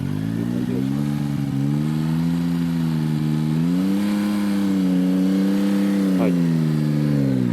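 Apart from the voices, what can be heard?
Yamaha MT-09 motorcycle engine during a U-turn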